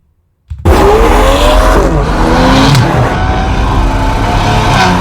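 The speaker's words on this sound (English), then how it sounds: "this car's actually fitted with an aftermarket Quicksilver exhaust" An Aston Martin V12 Vanquish with an aftermarket Quicksilver exhaust bursts into a loud, continuous engine roar with rising and falling revs, close and sustained after a silent start.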